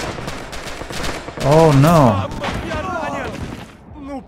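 Red Orchestra 2 gunfire rattles in quick bursts of machine-gun and rifle shots, moderately loud, while a man cries out in alarm and keeps talking over the shooting.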